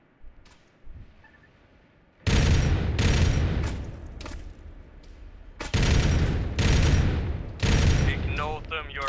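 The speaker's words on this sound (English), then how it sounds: "Let me start shooting at them from here" Repeated gunfire bursts from Arma-style infantry combat in a video game, loud and close, in several volleys separated by brief pauses after a quieter opening, with a few faint higher chirps near the end.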